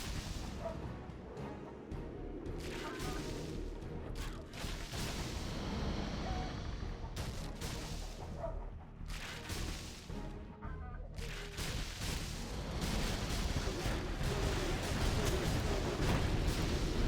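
Rapid anti-air gunfire and booming explosions from a Generals Zero Hour match between Google and Antrip, a dense continuous battle din with bursts of shots throughout.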